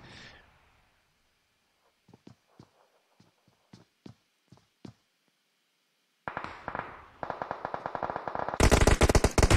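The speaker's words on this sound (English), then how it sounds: "Looks like they're taking shots from a deep distance." Gunfire in a shooter video game during competitive pro scrims: scattered sharp single shots at first, then dense rapid automatic bursts that grow louder and more intense toward the end.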